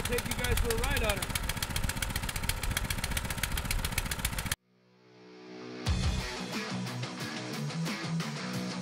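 A Baja mini bike's small Honda-clone engine, fitted with a replacement carburetor, runs steadily and close by. Its even, rapid pulsing cuts out briefly partway through, then resumes at full strength.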